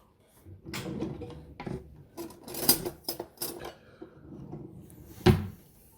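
A knife fetched from a kitchen drawer: a clatter of the drawer opening and cutlery rattling, a few knocks and clinks close by, then a sharp bang near the end as it shuts.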